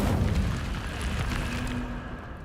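The Incendio fire spell from Hogwarts Legacy bursts out as a loud whooshing blast that rumbles and slowly fades, a single fiery eruption with no talking over it.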